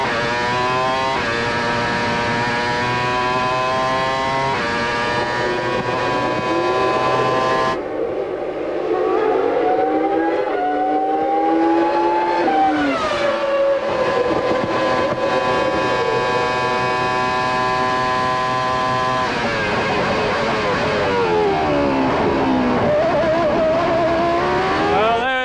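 A 1997 Formula 1 car at the Belgian Grand Prix at Spa, its high-revving engine screaming with sharp gear changes and pitch sweeps as it passes, loud and continuous under faint commentary.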